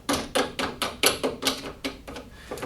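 A bolt on the handle of a Hyundai HYM40P petrol lawn mower is tightened, making a steady series of about ten close, clicking ratchet strokes with no talking.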